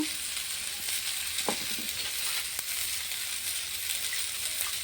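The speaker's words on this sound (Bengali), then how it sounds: "এখন আমি আদা জিরে লঙ্কা একসঙ্গে সব বাটা দিয়ে দেব।" A paste of ginger, cumin and chilli sizzles in hot oil alongside fried potato, radish and cauliflower, with a steady close crackle and occasional stirring scrapes.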